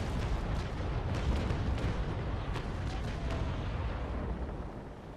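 Ship cannons firing in the naval combat game Naval Action, a dense, continuous rumble of booming broadsides and bursts that stays loud throughout.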